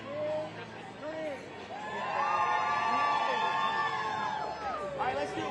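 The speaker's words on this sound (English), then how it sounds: "I want y'all to give me the biggest cheer ever" Crowd cheering on cue at a live rally outside the Supreme Court, a swelling mass of shouts and voices that builds and holds loud for several seconds, with people talking among the noise.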